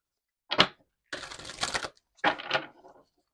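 Oracle cards being shuffled by hand, heard as three close, crisp bursts of riffling and flicking paper separated by brief silences, with no talking.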